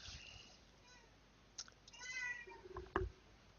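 A cat lets out a few faint, scattered meows against quiet room tone, with a sharp click near the end.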